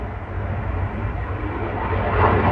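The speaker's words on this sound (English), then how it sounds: "some planes flying over" Airplanes flying overhead make a steady, low broadband roar that swells slightly toward the end, heard outdoors with no talking.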